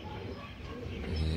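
Low, soft cooing of pigeons amid faint background noise, quiet and close, with one deeper coo toward the end.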